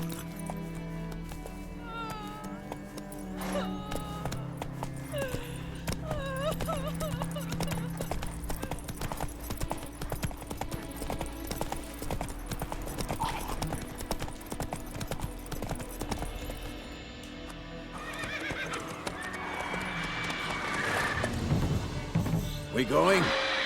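Rhythmic clip-clop of horse hooves plodding along steadily in the video game The Witcher 3: Wild Hunt, with tonal background music and occasional voices throughout.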